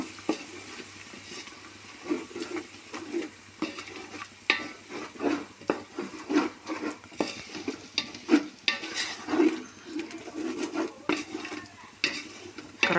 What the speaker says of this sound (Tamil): தக்காளி அதையும் சேர்த்து இதோட நல்லா சுருண்டு வர மாதிரி மிக்ஸ் பண்ணணும்.